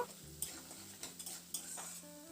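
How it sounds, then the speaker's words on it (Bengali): Garlic, mustard seeds and cumin frying in a pan for a cabbage dish, a soft sizzle under repeated spoon scrapes and light metallic taps while stirring. "এবার এই মশলাটাকে একটু নাড়াচাড়া করে ভেজে নেব"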